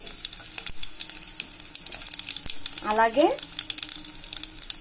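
Tempering spices with dried red chillies and ajwain frying in hot oil, a close, continuous crackling sizzle with small pops, under a brief spoken word.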